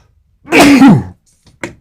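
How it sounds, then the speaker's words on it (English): A single loud, close sneeze with a sharp burst, followed by a couple of small breathy sounds. "So you guys got the full sneeze."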